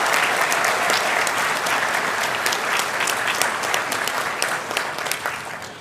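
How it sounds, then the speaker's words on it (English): A graduation convocation audience at Trent University Durham gives loud, sustained applause, a thick wash of many hands clapping that tapers only slightly toward the end. "a big round of applause"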